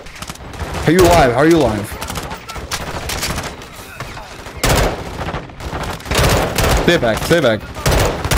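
Machine gun bursts rattle through a Call of Duty: Modern Warfare 2 firefight, loud rapid volleys mixed with other gunfire and explosions while voices talk over the action.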